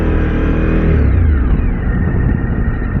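A Suzuki V-Strom 1050DE motorcycle engine revs loud and close, a steady droning roar that dips slightly in pitch as the revs settle, with no talking.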